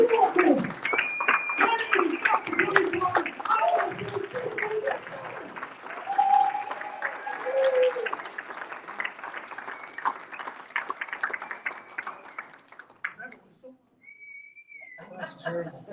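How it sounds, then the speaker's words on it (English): Seminar attendees at a motivational event clap with loud whistles and cheering voices on top, the noise running steadily before thinning out near the end. "I want you guys to give yourself a round of applause"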